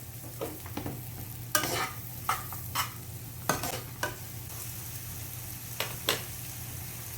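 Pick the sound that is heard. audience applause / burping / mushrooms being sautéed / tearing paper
mushrooms being sautéed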